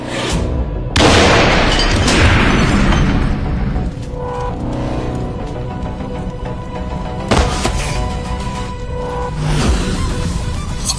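A car bomb goes off: a heavy booming blast with rumbling debris, followed by further loud bursts and a second large boom later, all dense and close, with no speech.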